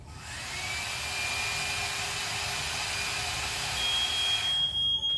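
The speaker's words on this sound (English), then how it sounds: "So this detector gets inside activated when the temperature is 57 degrees and above" A conventional fire alarm heat detector under test sounds as a steady, thin electronic tone over a constant noisy hiss, holding unbroken for several seconds.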